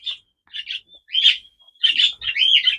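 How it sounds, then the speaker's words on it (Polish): Birds chirp loudly and close by near an outdoor run holding hens and rabbits, giving a series of shrill, rapid tweeting bursts with short pauses between them and no voices over them. "jak te ptaki tak się drą, to będzie padać"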